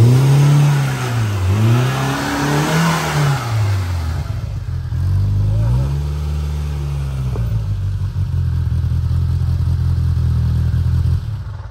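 A Polaris RZR Pro R four-cylinder side-by-side on 35-inch tires revs hard several times, its engine pitch rising and falling in loud close surges before settling into a sustained roar.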